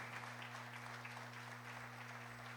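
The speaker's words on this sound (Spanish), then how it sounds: "Dele un fuerte aplauso al Rey de Reyes" Congregation applause during a Spanish-language church service fills the room as a faint, dense wash of clapping, with a steady electrical hum running beneath it.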